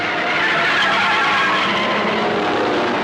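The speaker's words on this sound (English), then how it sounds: "Brabham's Cooper and Phil Hill's Ferrari battle desperately to get a nose in front of each other" Cooper and Ferrari Grand Prix race cars from 1960 roar past in a dense, continuous engine drone, loud and steady throughout, with tyres faintly squealing.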